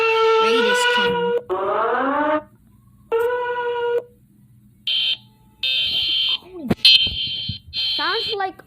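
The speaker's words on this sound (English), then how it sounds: "Sounds like the USA's alarm, but it's high pitched." A high-pitched emergency alert alarm sounds in loud on-off tone bursts separated by short gaps, followed by clipped shrill beeps and warbling tones.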